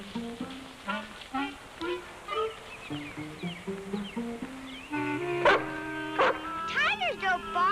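A voice imitates a dog, producing a quick series of yipping, bow-wow barks in uneven rhythm, close and fairly loud, growing denser and more strained toward the end.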